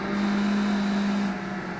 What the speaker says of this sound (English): you can hear those other cars though